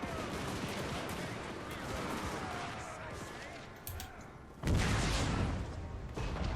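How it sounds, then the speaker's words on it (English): Great cannon firing directly at a wall in Total War: Warhammer II, a battle din of distant gunfire and rumbling impacts, then a sudden heavy boom midway that stays loud, with some talk over it. "First time in my life I've ever brought the great cannon right up to the wall like this for"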